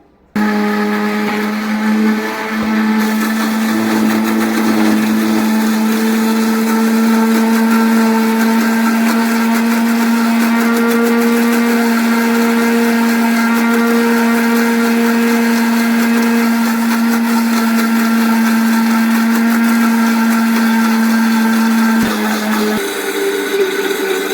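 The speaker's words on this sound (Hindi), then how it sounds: "तो चलिए हम ब्लेंडर ऑन करते हैं" A blender making eggless mayonnaise runs steadily at a loud, constant whir for over twenty seconds, with a slight change in pitch partway through before it stops.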